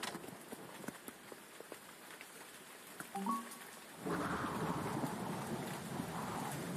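Steady rain pours down in a cartoon thunderstorm, building into a loud, dense downpour partway through, with a brief musical sound just before the rain swells.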